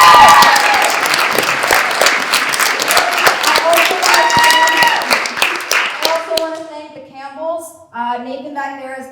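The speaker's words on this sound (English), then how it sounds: "Can we give a round of applause?" An audience at a live show called Addict breaks into loud clapping and cheering that fills most of the moment, then fades as someone starts speaking over the dying applause.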